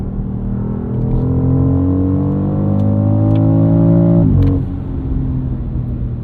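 A 2025 BMW X3 M50 with the new G45 turbocharged inline-six accelerates up an entrance ramp in sport mode, a loud, steady engine drone rising in pitch, with a brief shift-like break near the end before it settles again.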